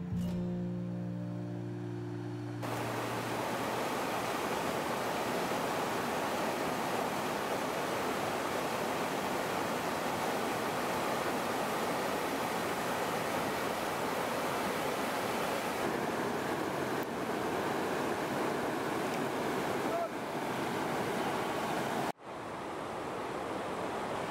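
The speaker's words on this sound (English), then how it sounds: "smell the sound of the river flowing through the wind" Steady broadband rush of a mountain river flowing along a stony riverbed, continuous and fairly loud throughout, with a brief dip near the end.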